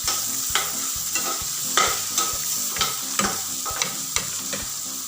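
Fish curry stirred in a pan over a medium gas flame, with a spoon scraping and clacking in a steady repeated rhythm over a constant close sizzle.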